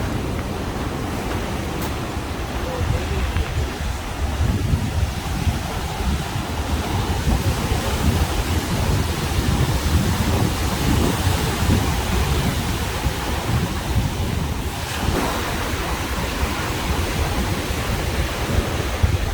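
Steady surf washes onto the beach at Ao Nang in Krabi, Thailand, a loud continuous roar of breaking waves with some wind buffeting the microphone, no voices.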